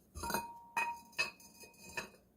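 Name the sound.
decoration being placed in a glass dish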